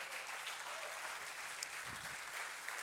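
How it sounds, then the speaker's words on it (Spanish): Applause from a church congregation during a Spanish-language sermon, a faint, distant, even patter of many hands continuing steadily without any voice over it. "Dale un aplauso al Señor."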